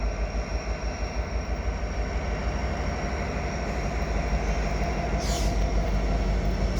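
A CN freight train hauled by SD70M-2 locomotives rolls slowly westward past the station at Dorval, producing a steady, loud rumble and rail clatter throughout, with a brief high squeal near the end and no talk.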